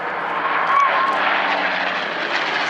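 A P-51D Mustang and a Spitfire flying in formation at the Dunsfold Wings & Wheels airshow, with a loud, steady propeller-engine roar sustained throughout and a faint voice underneath.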